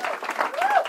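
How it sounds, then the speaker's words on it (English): Brief burst of audience applause at an escape artist stage show, loud crowd clapping with a few cheers or whoops rising over it, short and continuous. "Let's have a big round of applause for Jesse and for John."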